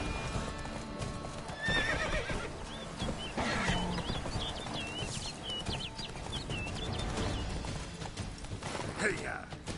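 A horse gallops with rapid, loud clip-clopping hooves and neighs during a ride in The Witcher 3 video game, with a voice speaking over the hoofbeats.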